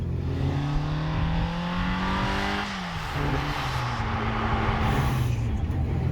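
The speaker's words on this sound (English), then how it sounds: "Always give it a bit of a dab on the accelerator before I change down, which makes it sound even more racy." Sports car engine revving hard on a road drive, with a throttle blip before each downshift; steady loud engine drone whose pitch climbs, drops sharply near the gear change, then rises again.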